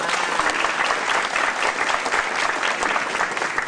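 Studio audience at a Javanese TV comedy show breaks into loud, dense applause that holds steady and close for the whole stretch, with no talking over it.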